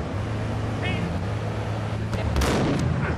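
A single loud shotgun blast in the video game GTA, a sharp burst over a low, steady engine-like drone, with voices talking faintly in the background.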